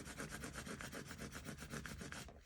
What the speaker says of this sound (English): I'm going to press it down again and use my scraper